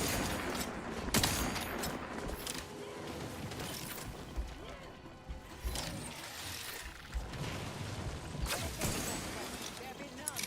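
Video game gunfire crackles in irregular rattling bursts alongside mechanical clicking and combat noise, with a voice speaking over parts of it.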